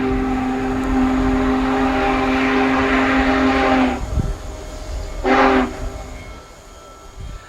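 Union Pacific Big Boy steam locomotive creeping slowly along the track in Wyoming, a loud sustained multi-tone whistle blast followed by a second short blast, with heavy rumbling of the passing train underneath.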